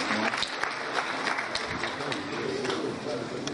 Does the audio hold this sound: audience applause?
yes